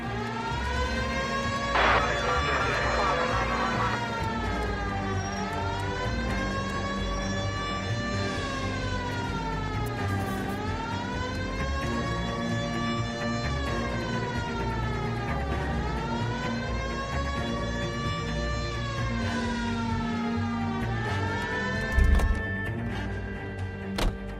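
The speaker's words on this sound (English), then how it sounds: "Hit the siren." Police car siren wailing in the L.A. Noire video game, a loud continuous rising-and-falling electronic wail cycling steadily over engine and background game noise throughout.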